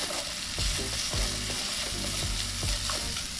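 Eggs sizzle and crackle steadily in a hot pan, with a utensil scraping and tapping the pan every second or so.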